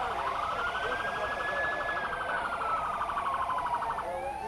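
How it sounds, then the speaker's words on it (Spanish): Ambulance siren wailing steadily in a slow rising and falling sweep through congested traffic at a national strike road blockade on a bridge, loud and continuous over dense street noise with faint voices. "Al parecer viene una ambulancia de emergencia, pero como está congestionado el paso, no pueden pasar."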